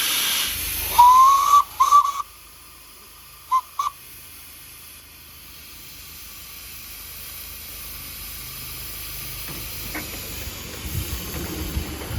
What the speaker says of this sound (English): I'll take the electric blower off and we'll use the locomotive steam blower.